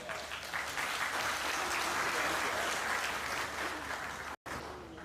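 Sustained audience applause fills the hall at the Telkomcel Annual International Summit (TAIS 2025) in Timor-Leste, dense and steady throughout, with a brief dropout near the end.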